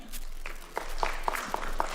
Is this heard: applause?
yes